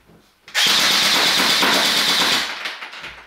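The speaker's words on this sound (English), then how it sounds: "Now this one can shoot single shots like, but it can also go full auto." Airsoft gun firing a single long full-auto burst indoors at a homemade target, a loud dense rattling buzz lasting about two seconds before tapering off, close up.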